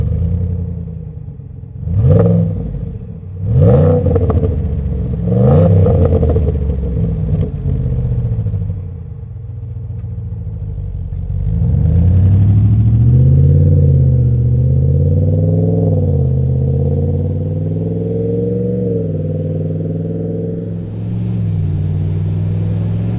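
Ram 1500 HEMI V8 pickup (2019) with an MBRP 3-inch high-flow muffler, loud deep exhaust blips at startup, then a steady rumbling idle and a sustained throaty rev with no talking.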